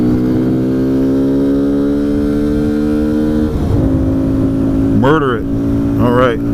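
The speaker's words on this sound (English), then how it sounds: "Here are those rev matches." Kawasaki Z125 Pro motorcycle riding through Las Vegas, its small engine droning loudly and steadily, then quick blips of revs as the rider rev-matches through downshifts, with a voice talking over it.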